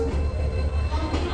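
Guwahati–Ledo Intercity Express standing at a station platform, a steady low rumble of the idling train filling the short moment, close and continuous with no talk.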